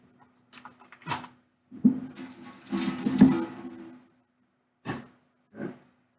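Running tap water splashing over three frozen breakfast sausage links in a kitchen sink, in uneven bursts as the links are moved under the stream, then brief spurts near the end.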